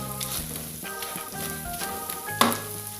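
Spice paste for fish-head pecak sizzles and fries steadily in a pan, a close, continuous crackle with a few scraping stirs and a sharper burst near the end, while music plays underneath.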